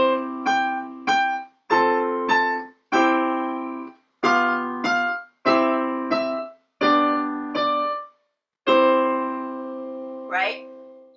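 A piano plays Twinkle Twinkle Little Star in repeated sustained chords, each struck cleanly and held briefly, with a short pause before the final ringing chord.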